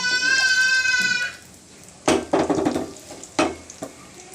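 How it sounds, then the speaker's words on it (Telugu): Tempering of fenugreek, mustard seeds, urad dal and cumin frying in about two tablespoons of oil in a pan: a hiss and crackle with several scraping stirs, following a brief high whistle-like tone at the start. "పోపు కొంచెం దోరగా వేయించుకోవాలండి."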